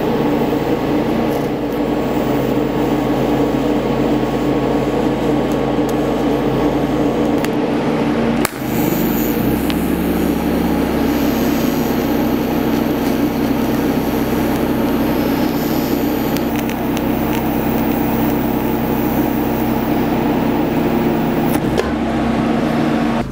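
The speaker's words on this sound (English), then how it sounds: "I'm impressed with this little generator running my TIG" Small MaXpeedingrods MXR 3500W dual fuel portable inverter generator powering a DC TIG welder at around 80 to 85 amps, a loud continuous engine drone with a steady electrical hum and a brief shift partway through, no talking.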